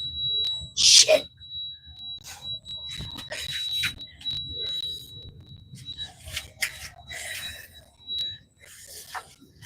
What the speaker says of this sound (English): I didn't know the alarm was set.